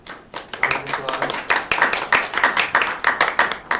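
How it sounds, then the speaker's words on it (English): An audience at a science event gives a round of applause for a volunteer, brisk rhythmic clapping from a small group, close and steady throughout. "Round of applause"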